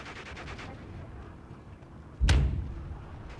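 A StuG assault gun in the WWII strategy game Steel Division 2 fires a single loud, heavy cannon boom that rings out briefly, set against a quiet battlefield ambience.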